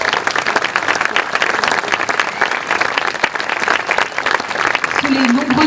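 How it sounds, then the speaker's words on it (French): Applause from an audience at a civic award ceremony in Malestroit-St Servant, where a diploma is formally presented; dense sustained clapping fills the whole stretch, with a voice entering near the end. "Sous les nombreux applaudissements du public."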